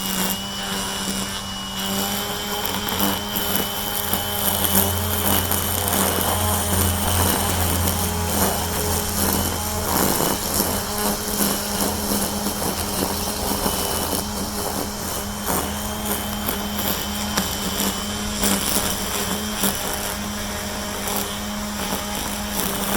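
A Kobalt 24V cordless string trimmer cutting weeds at about three-quarter throttle, giving a steady, loud whirring drone that holds for over twenty seconds with slight changes in pitch as it cuts.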